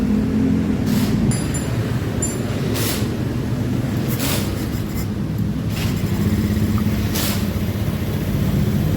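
A Honda Beat Street scooter engine with a hill-climbing power problem idles steadily up close, a constant low buzzing drone with a few brief mechanical ticks, no voices.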